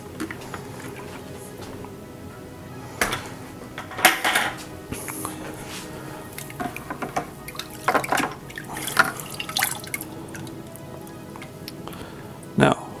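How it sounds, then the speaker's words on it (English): Mead-making equipment is rinsed under running water with scattered splashes, drips and clunks of gear being handled, the bursts irregular and close, while a person talks at times. "This can all get washed now."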